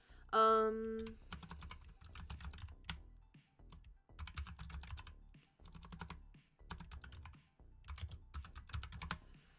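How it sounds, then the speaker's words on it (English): Someone types on a computer keyboard in quick bursts of clicky keystrokes separated by short pauses, close and fairly quiet, with a brief tonal chime at the start. "I will forget if I don't type it in right now"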